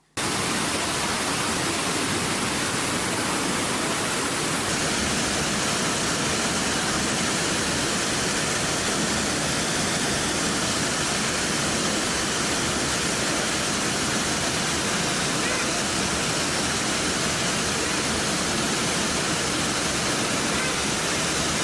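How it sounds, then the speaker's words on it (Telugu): A steady, loud roar from a waterfall plunging into a gorge about 75 feet deep fills the whole stretch without pause, broad and unchanging like heavy white noise. "జలపాతం చూసేటందుకు మంచిగానే ఉన్నది"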